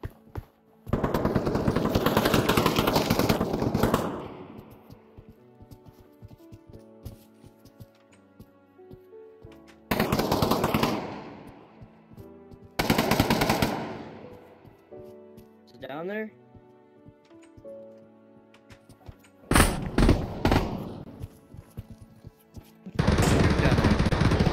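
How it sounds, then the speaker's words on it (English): Repeated bursts of automatic gunfire in the VR shooter game Pavlov VR as players shoot at blocks to dig a tunnel, loud and close, separated by quieter gaps. "They're shooting at the blocks to mine away a tunnel."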